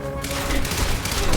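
Tactical SMG gunfire in the game Quantum Break, a loud, continuous rattling burst of rapid shots lasting the whole moment, with a voice faintly present beneath.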